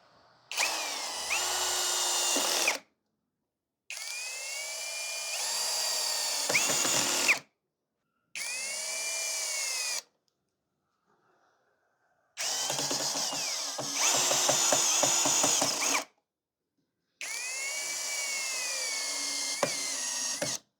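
A Tecepo 21V brushless cordless drill in screwdriving mode at mechanical speed 1 drives 4.5 x 45 screws into a wooden slat, producing five loud whirring bursts of a few seconds each with rising pitch and short silent gaps between them.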